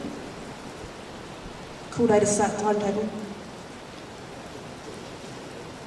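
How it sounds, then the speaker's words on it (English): Heavy rain makes a dense, constant hiss throughout, loud and steady, with a brief spoken line over it partway through. "that rain is really heavy"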